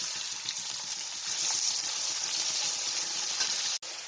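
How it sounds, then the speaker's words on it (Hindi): Thin slices of medium onions fry in hot oil for biryani, a dense, steady sizzle with soft stirring underneath, close and fairly loud, ending in a sharp click. "अब मैं इसमें 2 मीडियम साइज के प्याज जो मैंने पतले पतले स्लाइसेस कर लिए थे वो डालूंगी और हम इसको मुसलसल हिलाते हुए डार्क ब्राउन कर लेंगे"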